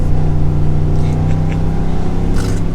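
A 2021 Ford F-150 V8 RMT Overland pickup with a 5-liter V8 gives a loud, continuous deep exhaust rumble with a throaty low drone, heard from inside the truck while driving.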